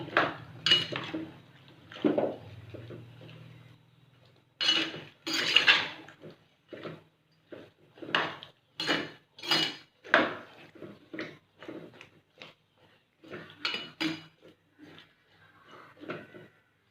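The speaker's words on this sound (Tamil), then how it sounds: "ஒரு கிளறி வைக்கலாம்." Spoon stirring brinjal (eggplant) kadaisal curry in a pot, a run of scraping and clinking strokes against metal with wet squelches, close and fairly loud, no talking.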